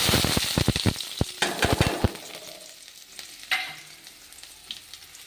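Chopped onion dropped into hot oil with garlic in a pan for a fenugreek dal, a burst of loud sizzling and spoon scraping that settles into quieter frying crackle, no talk.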